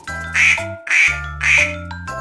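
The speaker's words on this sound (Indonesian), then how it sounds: "Bebek" A duck quacks three times in quick succession, loud and close, each call a nasal honk with the next following right behind.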